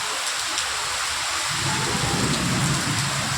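Heavy rain pours down in Nizamabad as a steady, dense outdoor hiss with a low rumbling wash underneath, continuous and close throughout.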